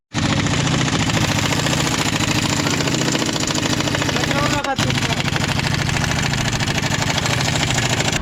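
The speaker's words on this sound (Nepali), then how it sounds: "तर साइलेन्सर चाहिँ छैन गाइज यार, हेर्नु सक्नुहुन्छ। साउन्ड चाहिँ अति लाउड आउने भयो" A motorcycle running with no silencer fitted, its exhaust blaring in a loud, rough, steady idle with a fast throbbing beat, close by, and a brief voice breaking in partway through.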